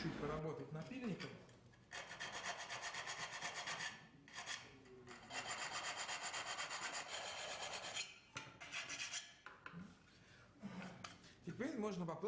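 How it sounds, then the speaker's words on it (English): Hand file rasping back and forth on a rectangular cutout for a rocker switch, steady repeated strokes in close bursts with brief pauses between them, loud and near. "we would need to finish up with a file to adjust the somewhat roughish angles to rectangular shape"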